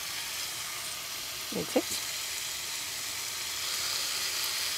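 Cajun chicken and mushrooms stir-fry in oil with a steady soft hiss of sizzling, broken by a brief spoken phrase in the middle.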